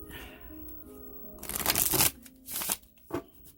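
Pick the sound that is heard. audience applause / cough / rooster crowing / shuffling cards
shuffling cards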